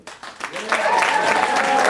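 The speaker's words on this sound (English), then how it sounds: "let's give a warm round of applause together for all of them, David Bell," An audience at a university speaking contest breaks into warm applause for the student speakers, starting sparse and quickly building into full, loud, continuous clapping.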